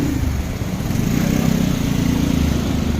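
A Vespa GTS 300 scooter engine runs loud and close with a steady, rough mid-pitched drone and a faint lumpy rumble underneath as it pulls away.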